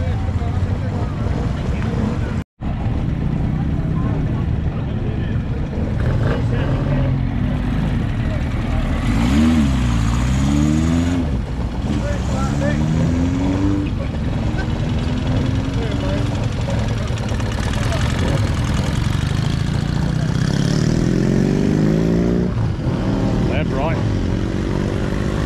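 Engines idle and rev as a Honda and a BMW pull away one after another from a pub car and bike night, with rising engine pitches over steady rumble while people talk nearby throughout.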